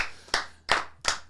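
Three crisp, close hand claps ring out one after another in a quiet room as podcast hosts applaud the lads.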